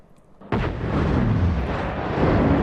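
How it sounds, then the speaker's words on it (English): A nuke launcher detonates in the video game Just Cause 3: after a quiet moment, a sudden loud blast erupts into a sustained, rumbling roar that keeps going to the end, with no talking. "afterwards, I unlocked the nuke launcher. So I equipped it."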